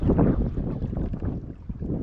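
Steady wind rushing over a small fishing boat with an electric motor on a river, heading out for pike; a continuous low buffeting roar fills the whole stretch with no voices.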